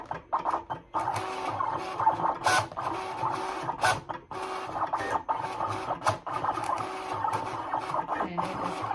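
A StarCraft Solo craft cutting machine runs steadily up close, its motorized whir and rapid carriage movements buzzing continuously with short clicks and shifts in pitch as the blade moves.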